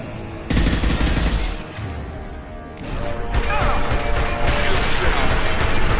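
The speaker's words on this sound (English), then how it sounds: "Firing a high impact shot" Gunfire in the video game Mass Effect 2: a dense burst of shots and impacts crashes in loud and close, with heavy blasts and a sustained rattle of fire continuing under game noise for several seconds.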